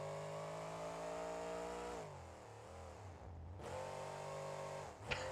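A monster truck engine in BeamNG.Drive revs hard in a steady, buzzing drone, drops and wavers as the pitch sags, then climbs again, ending with a brief sharp spike near the close. No one talks over it.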